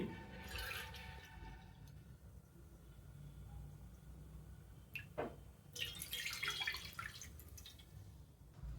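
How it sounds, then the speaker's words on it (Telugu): Thick milk is poured into a pan on a stove over a low flame, a faint liquid splashing and trickling that comes in two bursts, the second a few seconds after the first, with no talking. "దీంట్లో 2 కప్పులు పాలు పోస్తున్నాను"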